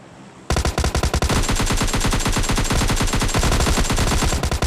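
Rapid automatic SCAR rifle fire in the mobile shooter PUBG Lite bursts in after a brief quiet start, a loud, dense stream of shots running almost without pause to the end.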